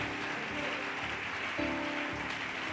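Church congregation applauding and acclaiming the Lord during a French-language service, steady crowd clapping with voices and a sustained musical tone underneath, loud and continuous throughout.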